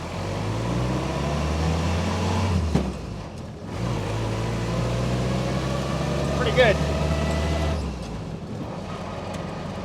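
A restored WW2 jeep engine idles low and rough, then pulls away with a steady mechanical drone, briefly dipping and resuming while someone talks over it throughout.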